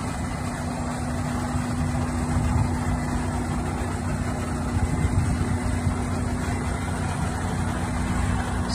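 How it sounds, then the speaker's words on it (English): A 2018 Freightliner Cascadia 125 truck idling with its engine running smoothly, a steady low rumble with a constant tonal drone, even and unbroken, heard close with no talk. "truck runs really nice, as you can tell by listening to it."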